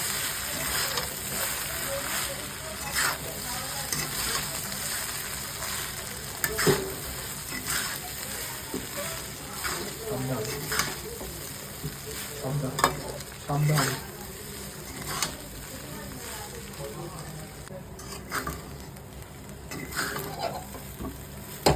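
Food being stirred and mixed in a frying pan after pepper, sugar and salt go into a rice dish, with steady low sizzling and intermittent scraping strokes throughout; a voice speaks faintly in the background at times.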